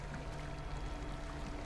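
Steady flowing liquid from a river of blood in the horror game Amnesia: A Machine For Pigs, a continuous watery rush with a low hum beneath it, alone and fairly close.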